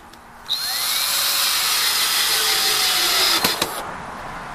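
A handheld power tool whines steadily at close range while smoothing pieces of a wooden bench, a continuous high buzzing run of about three seconds that starts abruptly, then cuts off with a couple of clunks.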